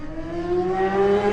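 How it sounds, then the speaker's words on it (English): A BMW superstock racing motorcycle launches from the start at the 2017 Isle of Man TT, its loud engine note rising steadily in pitch as it accelerates away, close and unbroken by talk. "David Johnson is going to blast away. Here he goes on that BMW."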